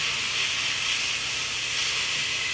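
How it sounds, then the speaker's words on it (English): Chopped celery sautés in a pan for a simple broth soup, a steady bright hiss and sizzle, even and unbroken through the short moment. "I'm going to saute."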